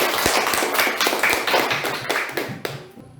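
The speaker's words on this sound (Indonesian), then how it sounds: "Tepuk tangan untuk kelompok 3" Classroom students clap for a presenting group, a scattered burst of hand claps with distinct sharp individual slaps, loud at first then thinning and fading out toward the end.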